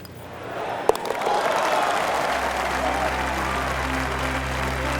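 Golf gallery at the finishing hole of Wolf Creek breaks into sustained applause after an eagle attempt, a dense crowd clapping that swells and holds, with a commentator talking over it.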